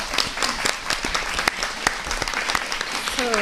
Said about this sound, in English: I think our panelists deserve a round of applause.